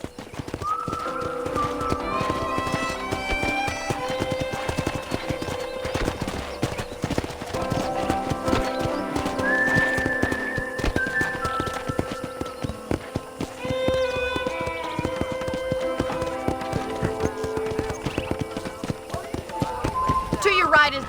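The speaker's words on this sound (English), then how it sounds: "I picked out a fine horse for you." In the Red Dead Redemption video game, horse hooves clip-clop steadily on a ranch, with occasional whinnies, under ongoing dialogue and a soft musical score.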